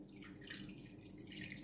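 Water poured into a cooking pot for oats, a steady close splashing stream with faint dripping, running alone without talk.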